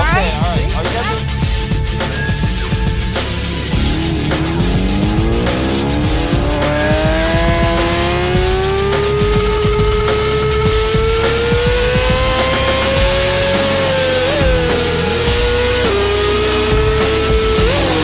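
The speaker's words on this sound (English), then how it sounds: "I just got off of a superbike going at top speed, wheelies, turns, just full out adrenaline blast." Superbikes race at top speed at an AMA National Guard event on the NOLA Motorsports track, their engines screaming with rising and shifting pitch, loud and continuous, while people talk underneath.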